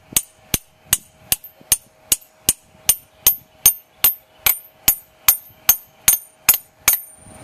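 Hammer driving fence parts into the top of a retaining wall, about eighteen sharp metallic blows in a steady even rhythm, close and loud with brief ringing after each strike.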